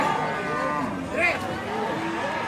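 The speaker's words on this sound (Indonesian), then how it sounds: "Bahaya sapi kayak gini nih." An agitated cow at a livestock market lets out one loud, drawn-out moo. A brief louder cry rises near the middle over steady market background noise.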